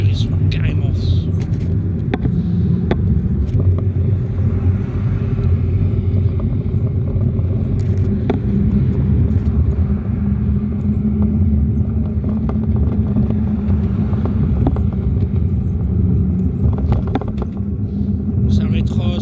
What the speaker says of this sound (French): il y a beaucoup de voitures derrière moi